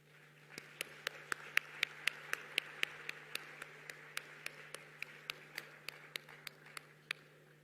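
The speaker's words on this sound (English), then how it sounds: "A warm round of applause there as well" An audience claps at a high-level plenary of the Africa Climate Summit, giving a steady round of crisp hand claps that sound fairly distant and even throughout before tapering off.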